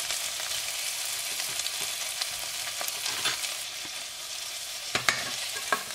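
Onions, garlic, ginger and peppers frying in a pan, a loud continuous close sizzle with occasional scrapes and clicks of a stirring utensil.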